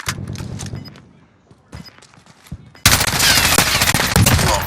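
Rapid automatic gunfire rattles in a first-person shooter match in a cave map, starting with scattered shots and thuds, then a dense loud sustained burst of fire.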